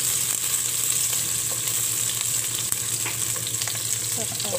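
Sliced onion frying in a pan for chicken adobo with potatoes: a steady, close sizzle with fine crackling pops and faint stirring clicks, continuous throughout with no talking.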